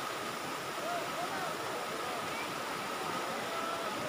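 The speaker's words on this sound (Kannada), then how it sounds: "ಇಲ್ಲಿಂದ ವಾಟರ್ ಸೌಂಡು ಮತ್ತು ಗಲಾಟಿನ ಎಂಜಾಯ್ ಮಾಡಿ" Water overflowing from the Mari Kanive (VVS) reservoir roars in a steady, unbroken rush, moderately loud, with faint crowd murmur behind it.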